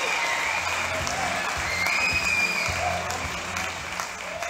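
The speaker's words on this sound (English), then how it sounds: "We don't stop clapping for the chairman until he's taken a seat." An audience applauds the chairman at an official book launch, a sustained, fairly even clapping that carries steadily throughout with a slight fade near the end.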